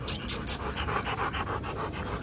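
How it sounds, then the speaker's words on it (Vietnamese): A breeding dog pants hard and fast in quick, even bursts, close and steady for a couple of seconds with no talk. "Thở như con trâu, Loki."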